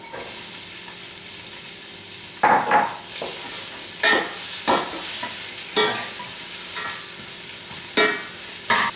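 White onions fry in a hot pan for an Italian meatball sauce, a loud continuous sizzle broken by repeated stirring scrapes and bursts roughly every second, close up with no voices.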